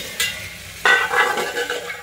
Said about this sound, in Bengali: এই সব মশলাকে ভালো করে ভেজে নিতে হবে।